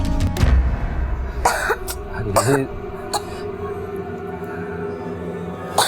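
Coughing from a person who is ill with a fever, a few rough bursts in the first seconds close to the listener, then a dull low background with faint voices underneath.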